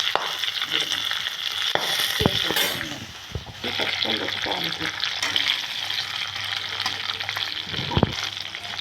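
Curry leaves, long green chilies and spices frying in hot oil, a loud crackling sizzle that flares in bursts while a spatula stirs and scrapes, close up and sustained with no talking.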